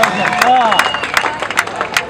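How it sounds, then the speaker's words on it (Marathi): Crowd at a local cricket match in the Yashraj Trophy tournament breaking into clapping, a brief burst of scattered hand claps with cheering voices and a commentator speaking over it. "टाळ्यांचा गजर"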